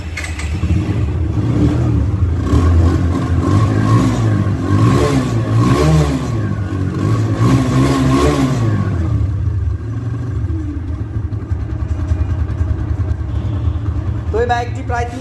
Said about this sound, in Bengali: বাইকের সাউন্ড কেমন রয়েছে এবার আমি সেটা দেখাবো